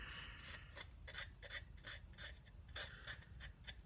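A rag rubbing finish onto a walnut wood slide-top box, a quiet rhythmic scrubbing of about a dozen close, short strokes with no talk.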